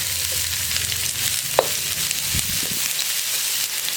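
Chopped onion and cumin seeds frying in ghee for Punjabi chicken curry, a steady close sizzle with a few sharp stirring clicks and scrapes, no voices.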